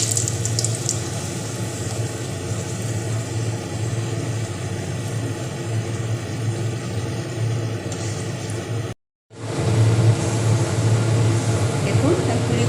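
Puris, Bengali fried bread, frying in hot oil in a home kitchen: a continuous loud sizzle and crackle with a brief dropout near the end, then resuming.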